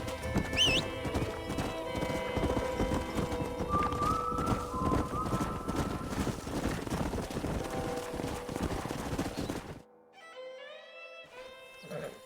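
In the video game Red Dead Redemption, horse hooves clip-clop rapidly and steadily, close up, with a brief whinny early on, before the hoofbeats stop and a quieter tail follows.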